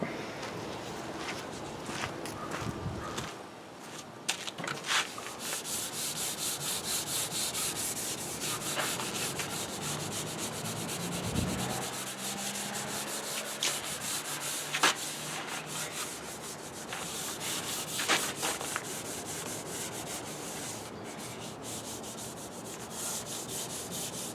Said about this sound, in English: look how I'm using my hands with the 400 grit sandpaper and getting right into the curves and edges